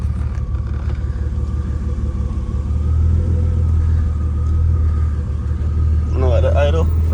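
A BMW E36 M3 engine idles just after starting, a deep, even low rumble close by with slight swells in level, while someone speaks briefly over it near the end.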